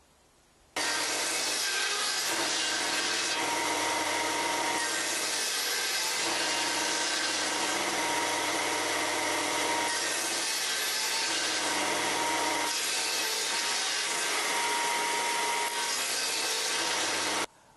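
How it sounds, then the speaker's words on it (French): A circular saw rips small strips of wood from a piece of roof rafter, its motor running loud and steady for about seventeen seconds with the cut's pitch shifting slightly as the blade bites. "découper des petites bandes de bois à la scie circulaire"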